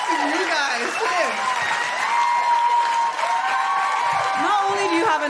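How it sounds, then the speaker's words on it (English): Applause from a small audience for singers rises under overlapping talk and laughter, with voices speaking throughout. "You guys, round of applause to you guys."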